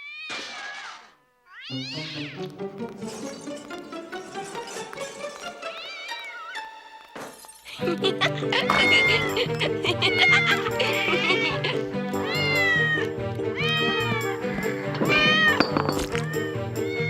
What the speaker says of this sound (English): They're not beasts, Madame Rottenmeier. They're just kittens.